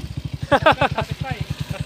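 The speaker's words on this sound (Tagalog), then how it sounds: "Yung tambutso, napakagwapo. Ito yung kursunada ko yung tunog." Exhaust of a converted 175cc motorcycle in Villasis, Pangasinan, thumping at a steady rapid idle with crisp popping pulses, close and loud, while someone talks over it briefly.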